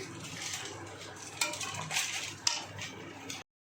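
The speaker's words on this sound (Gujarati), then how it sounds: "હવે તેની અંદર મિક્સ કરી દેવાનું છે આ રીતે" Manchurian balls being stirred into gravy in a pan, with soft clinks and scrapes of a spoon against the metal, a couple of sharper knocks standing out over a steady low sizzle.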